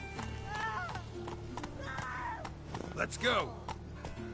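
Roach, a horse in The Witcher 3 video game, gallops with steady hoof beats under a man's urging speech, with a brief whinny-like rise near the end.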